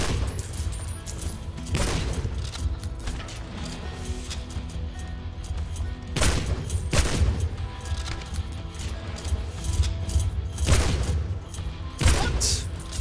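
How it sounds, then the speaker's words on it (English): Gunfire from shooting enemies in the Soul Slinger video game: repeated heavy shots and bursts several seconds apart over a dense, steady background of combat noise. "Bro, I'm shooting these people."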